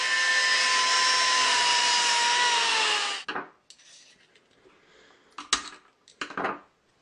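Power saw cutting into a small steel ball bearing: a loud steady grinding whine for about three seconds that cuts off abruptly, followed by scattered clanks and rattles of metal pieces being handled.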